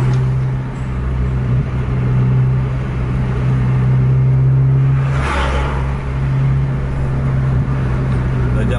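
Steady heavy road traffic at night at half past one, with trucks rumbling past under a constant low engine drone and a brief passing whoosh midway; no talk is heard.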